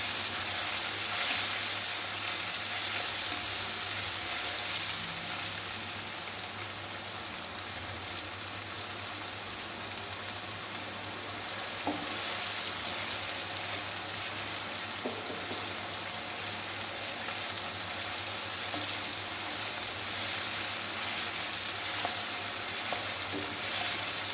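Tomato paste sizzling in a hot pan while being stirred for sev usal, a steady frying hiss with occasional scraping and clicks of the spoon, continuous and even throughout.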